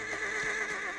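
A horse neighs in a single short whinny, fairly loud and close, with a rough, wavering tone and no talk over it.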